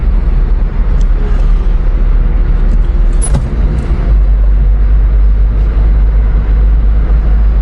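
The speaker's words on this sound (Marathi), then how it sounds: "आपली गाडी एकदम डाव्या बाजूने ओव्हरटेक करते" A car overtaking slow trucks on the left side on an uphill climb, heard from inside as a loud, steady engine and road drone with heavy low rumble and a brief rise midway.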